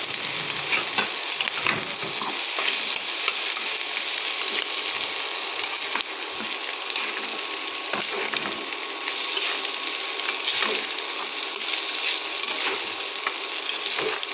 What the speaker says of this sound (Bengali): এটা ভালো করে এবারে নেড়ে চেড়ে আমি লাল করে নেবো এটা খুব সুন্দরভাবে